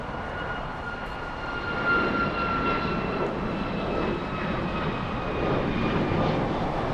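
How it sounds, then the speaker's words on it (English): A United Airlines passenger jet takes off at Los Angeles International Airport, a broad, steady engine roar heard from a distance with a faint whine above it, continuous and even. "Let's go for the takeoff. United Airlines 1573 flying to Dulles."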